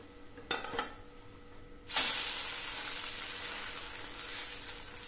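Cauliflower omelette sizzles in sesame oil in a pan, a couple of brief clatters followed by a sudden loud burst of frying that settles into a steady close hiss.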